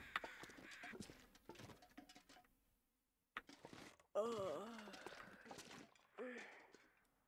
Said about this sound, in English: The sound of the crows just stopped abruptly as I walked inside.